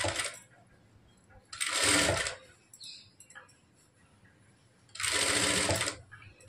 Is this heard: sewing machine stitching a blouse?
yes